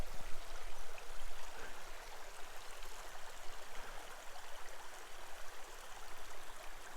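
The River Trice in Porcupine Mountains Wilderness State Park, Michigan, rushing steadily beside a trail, a continuous close hiss and gurgle of flowing water with no voices.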